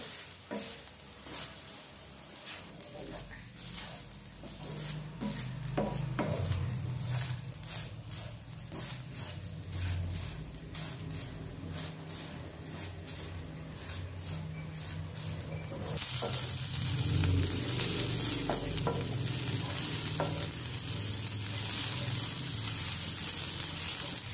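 Grated coconut roasts over medium-high flame in a pan for Malvani crab masala, with a continuous close sizzle and repeated rhythmic spatula strokes. The roasting grows louder and brighter in the final third.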